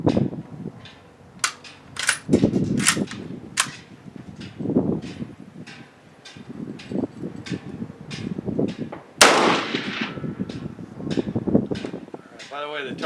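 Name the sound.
Mosin Nagant rifle shots, 7.62x54R, hitting steel target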